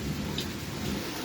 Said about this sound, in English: It's a rainy day here in New Orleans, okay?